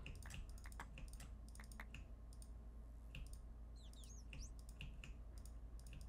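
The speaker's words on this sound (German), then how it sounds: "Das hört sich nach einem Delfin an." Dolphin in Minecraft making rapid, sharp clicking bursts and a few squeaky whistles, repeated in irregular clusters over steady low background noise, moderately quiet and with no talk.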